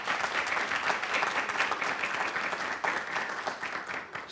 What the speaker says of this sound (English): So if we can give Terry a round of applause